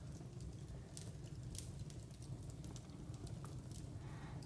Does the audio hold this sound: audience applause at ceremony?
no